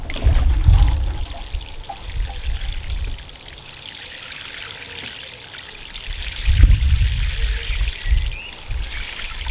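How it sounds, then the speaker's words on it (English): Water pouring from a watering can onto newly planted foxgloves in a garden, a close splashing trickle in two bursts, loudest at the start and again near the end, with a quieter stretch between. "I'll give them a water."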